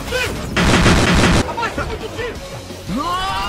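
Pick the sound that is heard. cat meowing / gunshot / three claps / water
gunshot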